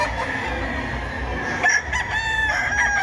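A rooster crows from a short distance at a hobby expo and pet convention, amid a busy farmyard-like background, its call rising clearly over steady ambient noise.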